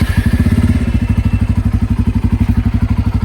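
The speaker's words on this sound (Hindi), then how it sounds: "और अब आपको हम एग्जॉस्ट नोट सुनाते हैं।" Idling 2024 Bajaj Pulsar N250 motorcycle with twin exhaust outlets, a loud, close, steady low thumping exhaust beat pulsing evenly throughout, with no talking.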